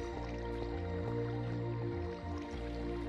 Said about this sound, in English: once they start wandering around, they knock each other into the water